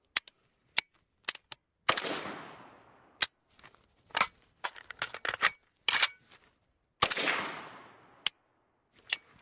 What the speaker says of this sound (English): what I want to get is a report and then the click